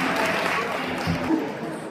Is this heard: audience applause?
yes